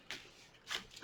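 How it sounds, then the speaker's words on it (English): Tarot cards are shuffled close up and quietly in two short riffling bursts about half a second apart, then a softer trailing flick. "One more shuffle here."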